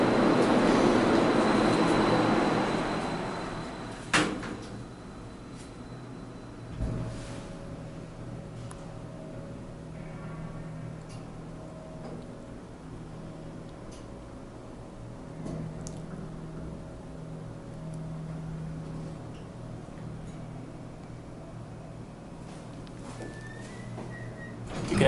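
An old elevator motor in a St. Louis parking garage runs with a low steady mechanical hum and rumble, opening on a louder whoosh, with a few clunks and faint rattles along the way.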